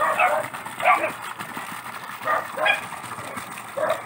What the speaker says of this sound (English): The dogs are all stirred up about something.